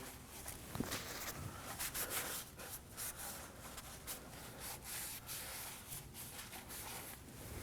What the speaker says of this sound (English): spray some brake parts cleaner on a rag and wipe off any excess oil that's on the oil housing or oil filter housing